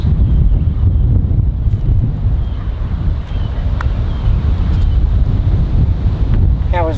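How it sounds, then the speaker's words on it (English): Strong wind blowing straight at the microphone on a golf practice range, a loud, steady low roar that buffets throughout with slight gusting and no let-up. "we've got a lot of wind here, guys, straight into us"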